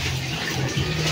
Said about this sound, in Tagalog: Drain lang natin ng konti.